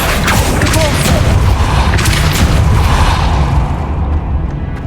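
Depulso force spells from Hogwarts Legacy crash as a loud, continuous barrage of booming, crackling bursts, with sharp impacts layered over a heavy rumble that thins out near the end.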